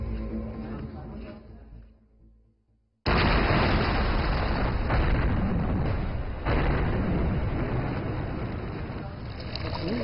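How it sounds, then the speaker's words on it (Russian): Controlled rock blasting by a demolition crew: a sudden loud, broadband blast bursts in after near silence and roars on as a sustained rumble, with a second surge partway through. "Взрывы, которые пугают сторонних наблюдателей, для Пэн Цянхуа звучат как чистая и стройная мелодия"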